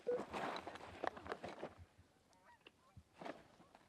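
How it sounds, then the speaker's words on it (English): Geese honk overhead during a Montana hunt, a cluster of loud nasal calls with footsteps and movement nearby, then thinner, more distant honks trailing off. "Got geese right above."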